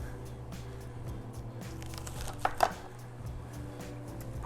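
Four garlic cloves are rubbed quickly against a small kitchen grater, which gives soft, rapid scraping strokes with a couple of sharper taps near the end. The sound is close and fairly quiet over a low background hum.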